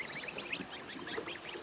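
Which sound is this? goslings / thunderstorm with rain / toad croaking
goslings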